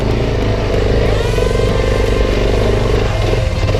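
A Suzuki DR650 motorcycle engine revs hard and close in a boggy, muddy patch on a steep slope, a loud continuous throaty drone with rising and falling throttle and no voices.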